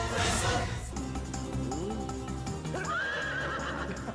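A horse whinnies in a film scene, a loud neigh near the start followed by a second rising whinny, set against background music.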